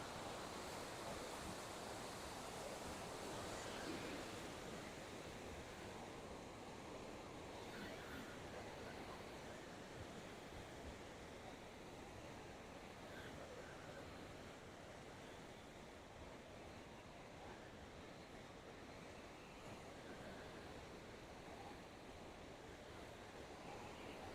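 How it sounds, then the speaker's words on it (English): Tobacco River water rushing in a steady, broadband roar that holds at an even level for the whole stretch, with faint wind on the microphone and no voices. "that's a lot of water moving, especially for this part of the country"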